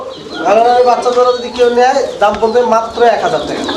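Nun pigeons cooing in low, throaty rolling calls nearby, partly overlapping with people speaking.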